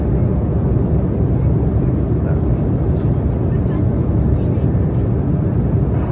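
Steady, loud airplane cabin roar during turbulence on a commercial flight, a constant broadband rumble filling the whole stretch with no breaks.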